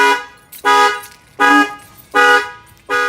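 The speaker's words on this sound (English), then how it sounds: "The alarm will fire off." A Ford F-250 factory alarm sounds in loud, steady honking blasts, four evenly spaced horn bursts close by with short gaps of quiet between them.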